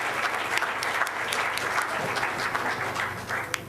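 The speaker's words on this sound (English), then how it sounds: "Can we have a warm round of applause?" A steady, full round of applause from a conference audience greets Unicom thought leader Amitabh Srivastava at WCNGT 2014, many hands clapping evenly at moderate loudness.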